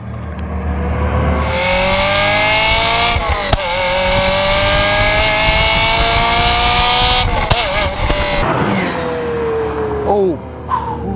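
Ferrari F355 with a catless Y-pipe revving hard and loud toward high RPM, a sustained screaming engine note with rising and falling pitch sweeps, gear-change dips and brief tire sounds, heard up close.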